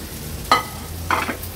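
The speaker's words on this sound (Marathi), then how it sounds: "हाय फ्लेम वर छान सॉटे करून घ्यायचे आपल्याला" Yellow, red and green bell peppers sauté on a high flame, giving a soft sizzle with two brief stirring scrapes.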